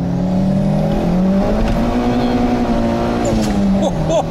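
A Skoda Octavia A7 1.8T turbo accelerates hard, its engine note rising steadily, dropping briefly on a gear shift, then climbing again, loud and close.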